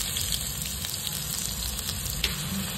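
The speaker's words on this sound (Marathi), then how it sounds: "त्यामध्ये आपण कांदा टाकून घेऊया।" Onions and cumin sizzle in hot oil in a pan for a spicy shev bhaji, a steady close frying hiss with faint stirring clicks and no voices.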